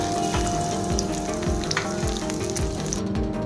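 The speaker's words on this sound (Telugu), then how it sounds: "బాణీ తీసుకుని అందులో నెయ్యి యాడ్ చేసుకుని వెల్లుల్లిపాయలు జీలకర్ర ఆవాలు ఎండుమిర్చి కరివేపాకు కూడా యాడ్ చేసుకుని ఇలా ఫ్రై చేసుకున్నానండి" Loud, continuous frying sizzle of garlic, cumin, mustard seeds, dried red chillies and curry leaves in hot ghee, with spatters and light stirring, close up and without talk.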